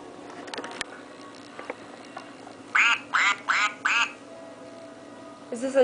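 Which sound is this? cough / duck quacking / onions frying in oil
duck quacking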